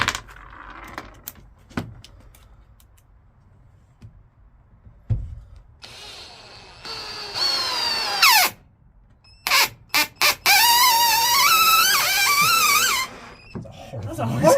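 A power drill fitted with a countersinking bit bores into a workpiece while fitting out a camper van, with whining bursts that rise and squeal, broken by brief pauses, loud and close, amid scattered clicks and handling noise.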